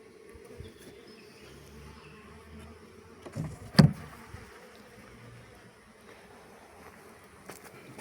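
A low, steady buzz from honey bees hums throughout a honey harvest, broken midway by one short, louder knock or bump, with no speech.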